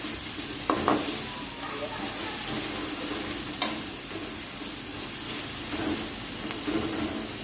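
Carrots and other vegetables for vegetable fried rice sizzle steadily in a hot pan, a continuous soft hiss broken by a few sharp scrapes and clicks of stirring, with no talk.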